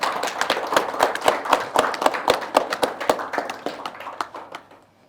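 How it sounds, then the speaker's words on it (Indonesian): An audience at the founding ceremony of Indonesia's national lawyers' council gives a burst of close, crisp hand clapping, dense and rhythmic at first, then thinning and fading away over about five seconds. "Tepuk tangan."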